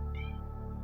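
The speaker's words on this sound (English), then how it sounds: "Sorry for the cat." A cat gives a single short, clear meow indoors over a low steady background hum, with no talk.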